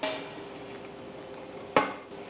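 Fried bitter gourd being moved from a pan onto a plate, heard as a soft scraping hiss followed by one sharp clatter of utensil against cookware near the end, with no talking.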